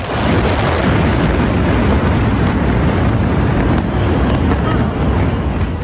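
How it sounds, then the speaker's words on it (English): Roaring, continuous rumble of explosions at a burning warehouse storing sodium cyanide, loud and dense with low booming energy sustained throughout, no clear gaps between blasts. "Then came the explosions."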